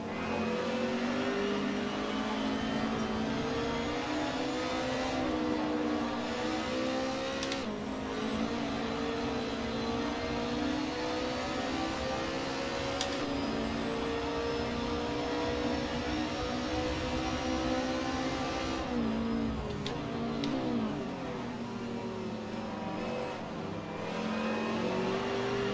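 A pack of touring cars in an Assetto Corsa race at Croft holds a continuous, loud engine drone, with pitch rising and falling through gear changes and several revving surges as the field bunches up and backs off.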